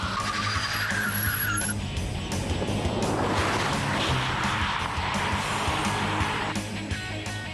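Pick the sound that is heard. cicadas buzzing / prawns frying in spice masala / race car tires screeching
race car tires screeching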